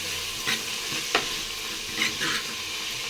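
Curry leaves sautéing in a pan for curry leaf kuzhambu, a steady close sizzle broken by a few sharp scraping stirs, with no voices.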